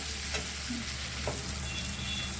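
Chopped capsicum frying in a pan, a dense steady hiss and crackle up close, with a couple of brief stirring scrapes and no voices.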